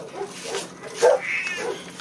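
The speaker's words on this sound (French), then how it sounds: "il y a les chiens d'à côté qui aboient." Neighbouring dogs next door giving short yips, whimpers and barks, a few scattered bursts heard from a short distance in a quiet room.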